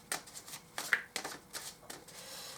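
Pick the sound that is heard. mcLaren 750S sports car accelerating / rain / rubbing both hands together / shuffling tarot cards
shuffling tarot cards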